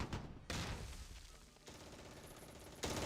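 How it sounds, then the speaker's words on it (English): Bursts of machine gun fire from Close Combat 3 rattle at a moderate, somewhat distant level, with two sharp onsets separated by a rolling stretch of continuing fire and battle noise. "Oh, there's a machine gun there as well in this building."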